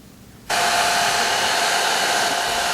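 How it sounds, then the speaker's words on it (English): A hair dryer switches on after a short pause and blows a steady, loud whoosh to dry a Chinese landscape painting of cloud and mist on cotton Xuan paper. "Now I'm using a hair dryer to dry the painting"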